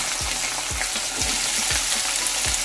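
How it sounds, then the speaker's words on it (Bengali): Onions frying in the leftover oil from the eggplant in a Bengali home kitchen for a spicy eggplant dish, a steady close sizzle with regular stirring scrapes repeating about every half second. "এবার আমি ওই তেলেই পেঁয়াজগুলো দিয়ে দেবো।"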